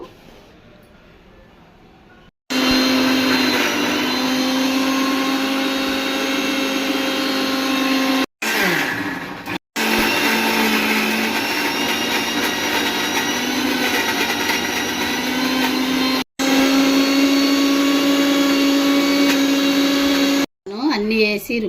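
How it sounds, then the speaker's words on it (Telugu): A mixer grinder grinding henna leaves with a little sugar runs loud and close in long whirring bursts, its motor pitch shifting as the jar loads, with short pauses between runs and a quiet start. "ఇది ఇప్పుడు మిక్సీ పడతాను"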